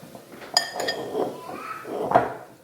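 Food goes into an air fryer basket with light clinks and scrapes of metal and dishes, close and fairly soft, with a faint bit of talking.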